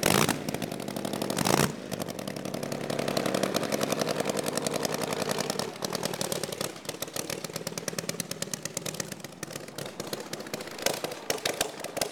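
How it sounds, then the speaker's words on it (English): A vintage twin cam motorcycle engine idles loudly through an open exhaust, rough and uneven with sharp popping bursts, close by, sounding unhealthy. "this is an open exhaust twin cam bottom end"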